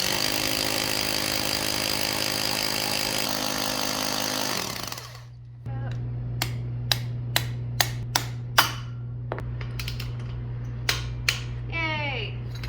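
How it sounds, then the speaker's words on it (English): A power drill bores into concrete to set an anchor for a garage bracket, grinding steadily for about five seconds before stopping, followed by sharp clicks and taps as a voice speaks nearby. "So now Nick's gonna drill out, put a bracket for the concrete anchor."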